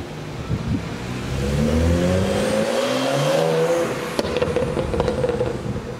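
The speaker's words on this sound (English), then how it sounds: "We'll go for a ride and I'll give you guys my impression on how it rides." A lowered car on bigger wheels pulls away, its engine rising and revving through a gear change with a deep rumble and road noise heard from inside the car, then settling into a steady cruise.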